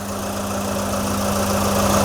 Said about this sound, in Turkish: Bu şekilde çalışıyor motorumuz.